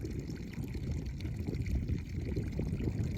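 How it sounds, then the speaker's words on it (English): Faint, steady trickle of rainwater running from farm field drains along a country lane after days of heavy rain, a soft low burble with no voices. "I've just been walking along the lane here and I can hear some water running."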